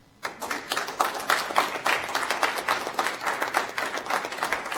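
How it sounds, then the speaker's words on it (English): Audience at a city council meeting breaks into steady applause, a dense crowd of clapping hands sustained at even loudness for several seconds with no voices over it. "Now y'all can clap."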